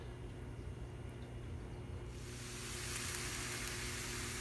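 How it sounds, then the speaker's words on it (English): Steady sizzling of ground meat in a hot cast iron skillet, growing louder and brighter partway through, with no talking. "you can hear that meat sizzle."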